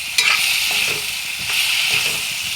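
Fried potatoes are stirred together with a spiced mixture in a pan, a close, steady sizzle with scraping stirring strokes over it, no talking.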